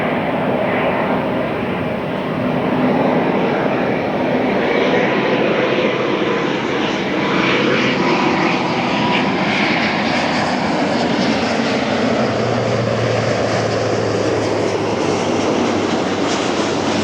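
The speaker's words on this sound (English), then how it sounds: "Brought to you by an Airbus A350" An Airbus A350 jet airliner at LAX roars steadily and loudly, a broad continuous engine rumble with a lower drone building toward the end, heard from nearby.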